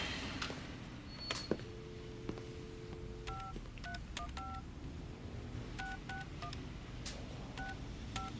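A telephone is dialed, giving a series of short, faint DTMF tones in two quick clusters over steady background hiss, with no talk.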